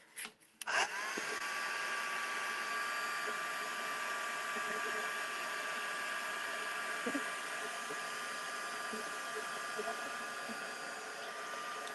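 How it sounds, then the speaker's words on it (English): A heat tool blows hot air to dry light modeling paste in mixed media artwork, switching on with a click and then whirring at a loud, steady, close drone that stays unbroken to the end. "We might just hit this quickly with another batch of the heat tool."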